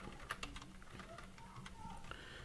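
Keyboard typing at a computer while entering a GitLab username, with quick irregular clicks at close range over a faint background hum and no voice.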